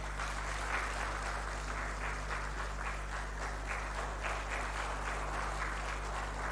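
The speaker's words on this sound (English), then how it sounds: "Southern Sudan, a heavy clap." Heavy, sustained applause from a conference audience at a digital economy summit in Africa, honouring the South Sudan delegation. The clapping is dense and continuous, even and moderately loud throughout, with no speech over it.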